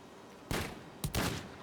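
Two bursts of gunfire from the video game GTA 5, one at about half a second and a second double burst near the end, loud and sharp over a steady game background with no talking.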